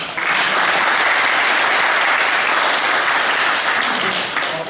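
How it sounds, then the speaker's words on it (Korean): Audience applause at a national fiscal policy forum debate, a dense, even wash of clapping that holds steady for several seconds and then starts to thin at the end. "큰 박수 부탁드립니다."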